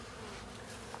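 Honey bees crowd a box during varroa mite testing, giving a steady, fairly quiet buzzing drone that lasts about a second with no voices.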